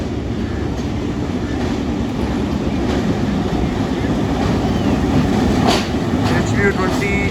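Rawalpindi Passenger train made up of the Hazara Express rake rumbling along steadily, a loud continuous roar of wheels and carriage noise with a brief sharper burst near the end.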